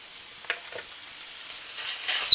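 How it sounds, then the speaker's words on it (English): Minced garlic or garlic paste frying in a pan, a soft steady sizzle with faint scraping stirs, growing louder near the end. "So I'm going to add to this my minced garlic, or garlic paste."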